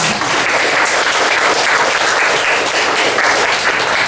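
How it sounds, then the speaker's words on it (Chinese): A seated audience at a bookstore book-launch talk applauds the host with loud, dense, sustained clapping that fills the room throughout, with no speech over it. "我们也给他一个掌声"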